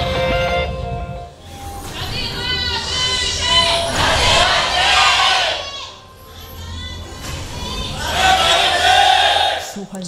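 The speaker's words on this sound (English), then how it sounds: "A lot of cheers for Anarchy." A large arena crowd at a League of Legends LCK Summer 2015 esports match cheers and shouts in two loud swelling waves, with commentator talk mixed beneath the roar.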